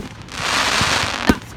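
Fireworks bursting on bonfire night, a steady crackling rush with a single loud sharp bang near the end, close and prominent.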